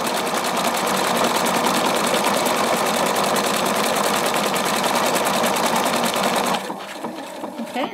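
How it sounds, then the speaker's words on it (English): A Brilliance 75Q sewing machine stitching a decorative pattern runs with a loud, steady, close mechanical whir and rapid needle rhythm, then stops near the end, leaving quieter machine noise. "And now it's going to stitch right on top of this."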